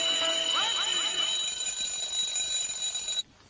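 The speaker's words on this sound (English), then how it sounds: "he set off an alarm clock at the end of it to trigger everybody back into it again" A mechanical alarm clock rings continuously in a Beatles studio recording, a loud, steady bright bell tone that cuts off abruptly near the end.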